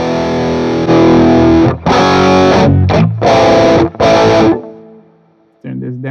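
Heavily distorted electric guitar run through a Mesa Boogie Mark IV amp simulation in AmpliTube 5, loud chords played in bursts with brief gaps, ending in a short quieter stab.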